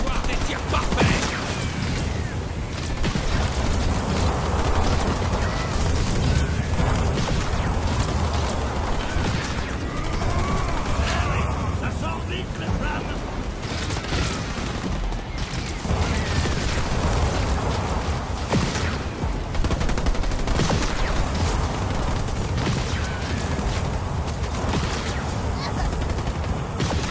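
Constant gunfire and explosions during a Halo Wars 2 co-op battle on Xbox One, a dense, loud fusillade of shots and booms running without break, with voices blended into the din.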